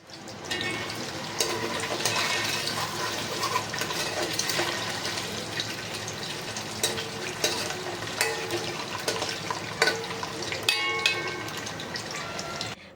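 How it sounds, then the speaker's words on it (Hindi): Eggs fry in oil in a pan, giving a dense, steady crackling sizzle with sharper pops scattered throughout. No voices are heard. "अंडे यहाँ पे फ्राई हो गए हैं"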